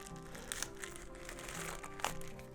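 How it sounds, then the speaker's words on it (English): A plastic bag holding the charging cable from a wireless earbuds box crinkles faintly in quiet, soft irregular rustles handled close up with no talking. "So it's a plastic bag."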